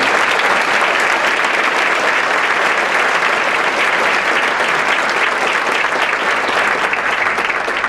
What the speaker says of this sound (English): I would like a round of applause for these folks who have given us so much.